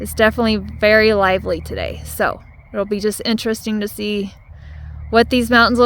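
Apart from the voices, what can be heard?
No distinct noise like a dog, phone or traffic.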